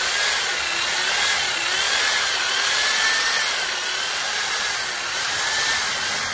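A power drill boring about a centimetre into a broken bolt, a steady high whine with a slowly wavering pitch and a rough grinding edge, continuous, loud and close.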